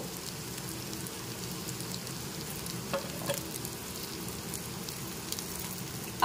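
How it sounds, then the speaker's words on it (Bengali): Fried potato pieces going into a pan of sizzling masala for a chana paneer curry, a steady close crackling sizzle like rain on a surface, with a few faint taps from the pan. "এবারের মধ্যে দিয়ে দিচ্ছি ভেজে নেওয়া আলুর টুকরো।"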